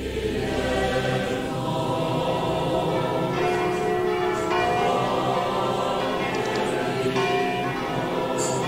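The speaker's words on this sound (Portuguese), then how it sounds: "Todos os sinos de Belém tocam à meia-noite." Several church bells in Bethlehem ring together at midnight on Christmas in a dense, continuous peal, rich and resonant, sounding moderately close with no voices.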